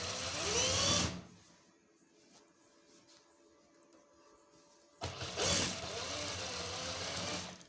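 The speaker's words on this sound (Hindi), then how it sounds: "ये नीचे से सिलाई शुरू करनी है आखिर तक।" Sewing machine stitching ajrak fabric, a fast loud rattling whir in two bursts separated by a quieter pause with faint handling noises.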